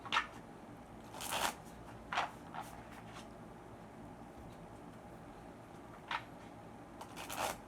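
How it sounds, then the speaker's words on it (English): Tarot cards being shuffled during a reading, soft papery riffles and slaps in a few quick bursts separated by quiet pauses, faint and close. "All right, I'm going to shuffle."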